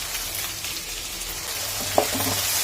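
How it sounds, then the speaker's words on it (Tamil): Ground masala paste for a shark fish curry sizzles steadily in a hot pan, a close continuous frying hiss with a few soft stirring clicks and no talking. "போட்டுட்டு பச்சை வாசனை போகிற அளவுக்கு வதக்கிக்கோங்க"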